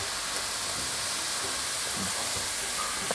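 Pieces of pork fry in a fair amount of oil in a pan after being dry-roasted for a Thai sweet-and-salty dish, giving a steady, even sizzling hiss with faint pops.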